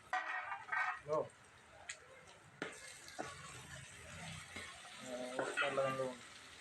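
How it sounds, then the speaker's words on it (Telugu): Onion pieces frying in a pan for a mutton curry, a steady broadband sizzle running throughout, with voices talking intermittently over it. "ఉల్లిపాయ ముక్కలు బ్రౌన్ కలర్ వచ్చేదాకా ఇలా ఫ్రై అయితే చేయాలి"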